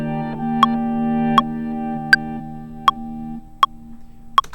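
Two guitars run through a reverse delay timed to a metronome, their sustained chord swelling and shifting as the final chord splits one up, one down, with six sharp metronome ticks punctuating the tones.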